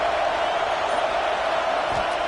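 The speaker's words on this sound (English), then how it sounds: "This crowd bringing the energy and noise early." Football stadium crowd cheering early in the game, a dense, steady roar of many voices filling the whole stretch at even loudness.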